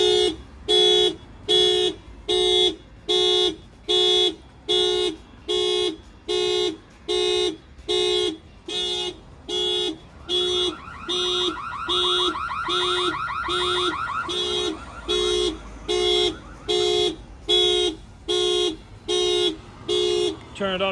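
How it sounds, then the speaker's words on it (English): A Toyota GR86 car alarm, set off by a shock sensor when the window is banged, blares in loud steady repeated honks, switching midway to a rapid warbling tone before the pulsing honks return. "I'm gonna go ahead and bang on the window. It's gonna set off the alarm."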